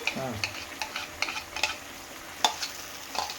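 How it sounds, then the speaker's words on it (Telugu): Ginger, garlic and tamarind pulp frying in oil, with soft sizzling under quick scraping taps of a spoon stirring in the pan, close and fairly quiet, and a brief voice at the start. "పచ్చివాసన వాసన పోయేంత వరకు మనం ఫ్రై చేసుకుందాం"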